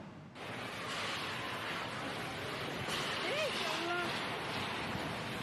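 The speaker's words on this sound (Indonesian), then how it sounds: "Inilah rekaman amatir saat hujan disertai angin kencang menerjang sejumlah rumah di 6 kecamatan di Kabupaten Pangkep." Strong wind with rain battering houses in Pangkep Regency, South Sulawesi, heard as a steady, loud roaring rush with no let-up, brief faint whistling tones drifting through midway.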